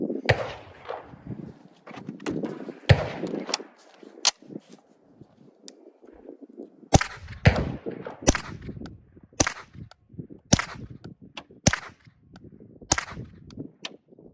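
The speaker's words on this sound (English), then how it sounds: "first up through the Osprey 45K, mounted on the Kriss Vector 9mm, is Blazer Brass, 115 grain," Suppressed Kriss Vector 9mm shots with Blazer Brass 115 grain supersonic rounds through an Osprey 45K suppressor crack as sharp single reports at an outdoor range, spaced irregularly over several seconds with faint handling noise between.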